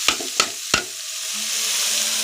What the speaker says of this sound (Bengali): তেলে বাগার দিয়ে দিলাম।